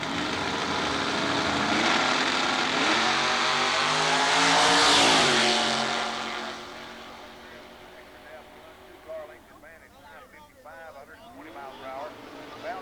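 Drag racing cars launch down the strip at Southeastern Dragway, a loud engine roar swelling and fading into the distance, followed by an announcer talking over the crowd.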